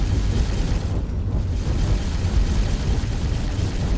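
Turrets blown apart in the space combat game X4, a loud sustained rumble of explosions and deep booming bursts rolling continuously with no pauses.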